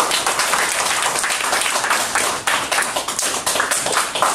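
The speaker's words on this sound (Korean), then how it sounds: "박수로 맞이해 주시기 바랍니다" Audience applause at a commemorative seminar in a Seoul city council annex hall, a dense, loud, steady wall of clapping that carries on for several seconds with no speech over it.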